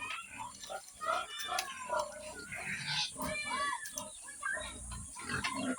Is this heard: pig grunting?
yes